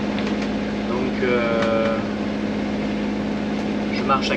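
A sailing yacht under sail with its auxiliary engine running gives off a low, steady engine drone and hum, while a voice talks over it.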